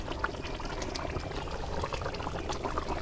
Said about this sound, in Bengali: এহিনটি জল নাকবো